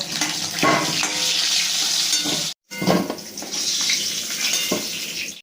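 Fish heads fry in hot oil, giving a steady loud sizzle with occasional clinks and stirring, briefly interrupted by a short gap before the crackling resumes.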